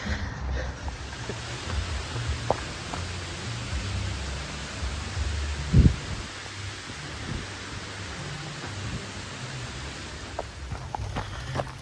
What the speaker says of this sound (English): It's totally raining right now.